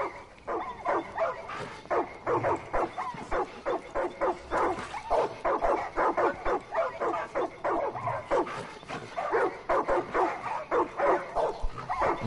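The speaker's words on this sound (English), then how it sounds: "Poor dogs. I'm gonna free you guys." Dogs in the video game Far Cry 5 bark and yip in a steady, rapid run of sharp calls, some whimpering mixed in, loud and close throughout.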